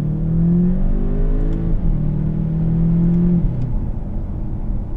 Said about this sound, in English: engine sound gets pumped through the speakers